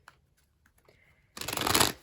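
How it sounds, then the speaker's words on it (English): A tarot card deck is shuffled close up, with a few light taps and a soft slide before a loud, dense riffle of cards rises and fades in a burst under a second long. "I'm just going to shuffle this deck here a few times"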